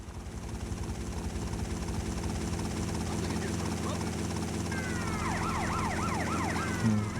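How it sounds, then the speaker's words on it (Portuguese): A police helicopter in GTA Vice City Stories on PS2 thumps with a steady, loud rotor beat throughout, joined later by wailing siren sweeps, while a voice talks over it. "O helicóptero atirando."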